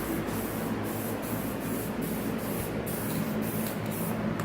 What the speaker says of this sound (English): it's time to spray paint.